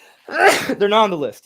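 A single sharp sneeze bursts out from a person close to the microphone during a gaming podcast, followed at once by a spoken line.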